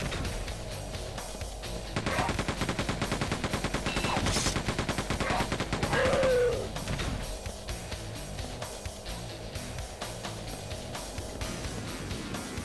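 Rapid bursts of gunfire from the video game Quake II, dense repeated shots running through most of the stretch, loudest in the middle, with a low droning game background underneath.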